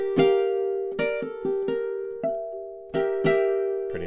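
Fingerstyle ukulele plays a slow, spooky melody of plucked notes and chords, each attack ringing out clearly and decaying, spaced unevenly with gaps, close and moderately loud with no talking.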